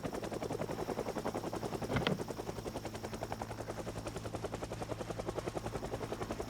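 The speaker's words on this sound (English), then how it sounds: "Yep, that was the sound of a helicopter." Helicopter rotor thumps beat in a fast, steady rhythm, loud and continuous in the zombie survival game Project Zomboid, with a brief sharp burst partway through.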